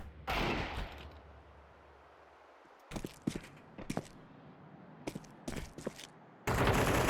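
Gunfire in a tactical shooter match on the Nuke map: a short burst up front, then scattered, sharp shots and quick volleys in separate clusters, ending in a sustained loud barrage.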